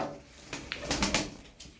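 Pigeons of the blue fly-marked (Sinekli Mavi) type cooing at close range, a few short soft coos with light clatter, and no talk.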